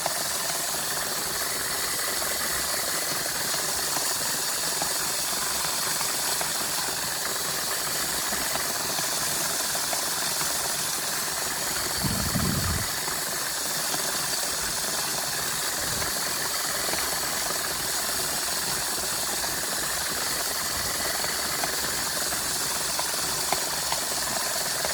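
A homemade magnetite separator machine runs continuously with a dense, steady mechanical whirring and rattling, close and loud, over its whole length, with a brief low thump near the middle and no talking.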